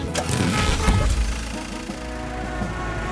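A cartoon moving truck drives up, a low engine rumble with a few thumps and knocks early on, settling into a steady idle-like hum.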